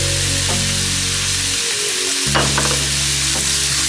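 Olive oil sizzles loudly in a hot pan for lamb stew, a steady dense hiss with a brief dip and a soft clink before the frying surges back.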